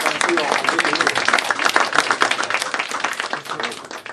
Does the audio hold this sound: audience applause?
yes